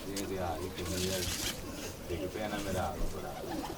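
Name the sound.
racing pigeon cooing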